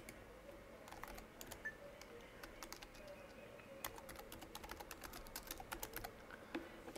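A Motorola MC9190 handheld keypad is pressed to enter a Wi-Fi password, giving a long run of quick faint clicks in irregular rhythm over a quiet room hiss, with no talk.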